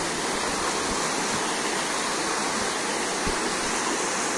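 A mountain river near Gunung Putri in Cianjur flows in a loud, continuous rushing roar, dense and unbroken, with no speech over it.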